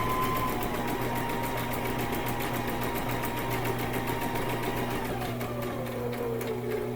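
A sewing machine stitches continuously, a steady rapid mechanical whir and clatter with even, fast needle rhythm close by, slowing slightly near the end, with no talking.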